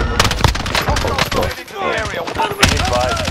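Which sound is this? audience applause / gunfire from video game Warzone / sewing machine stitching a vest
gunfire from video game Warzone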